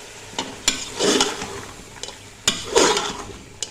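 Potatoes and beans fried in a pan and stirred with a spoon, sharp scraping knocks against the pan over a soft sizzle, with two longer stirring sweeps; no talking.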